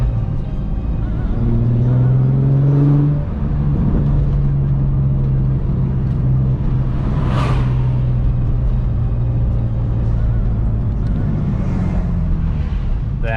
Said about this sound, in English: I'm gonna go for a little test drive real quick.